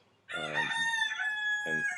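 A rooster crows close by in a bright, sustained cock-a-doodle-doo, with a second short call near the end, alone with no talking.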